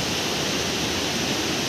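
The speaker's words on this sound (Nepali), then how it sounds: "माथिबाट पानी पनि माथि पुल छुइसकेछ" Floodwater from heavy rain in a river rushes up against a bridge, a steady, loud broadband roar of churning water that holds unbroken throughout.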